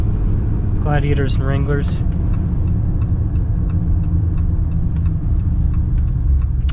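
Steady low road roar from 40-inch tires on a Jeep Gladiator 392 runs under someone talking inside the cab, with faint repeated ticking above the constant drone.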